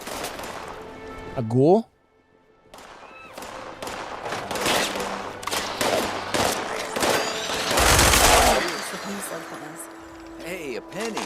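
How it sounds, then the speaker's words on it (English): Video game gunfire: bursts of rapid shots and sharp bangs crackle through a busy game soundtrack, interrupted by a brief silence, while a person talks over the action. "What are they even shooting at?"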